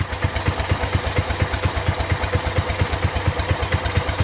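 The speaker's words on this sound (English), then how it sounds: "Look how that's idling. It's purring like a kitten, man." Exmark Metro 36 commercial walk-behind lawn mower engine idling smoothly, a steady close thumping pulse with an even, quick rhythm throughout and no talk.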